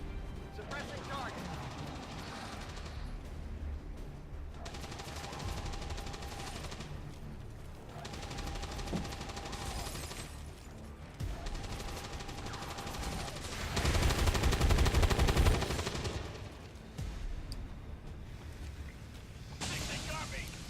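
Bursts of suppressing gunfire in the Long War 2 strategy game crackle over a dense battle soundscape, with a heavier, louder volley near the middle and voices talking throughout.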